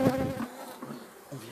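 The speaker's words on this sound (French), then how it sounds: "J'ai dû coincer une abeille quelque part" A bee buzzing trapped inside a beehive during a hive inspection, a loud close drone at first that fades, then returns in shorter bursts, with no talking over it.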